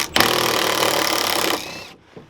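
Power tool zipping out a 13mm fender well bolt on a 2018 International 4300 truck: one loud, sustained rattling burst of about a second and a half, close by, that cuts off abruptly and leaves a brief quiet tail.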